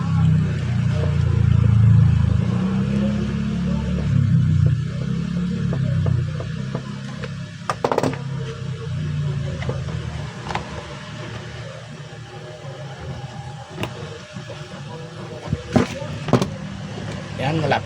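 An Armor mini industrial stand fan running on test after a repair for weak speed, giving a loud, steady low motor hum and whir with occasional clicks, and voices briefly heard.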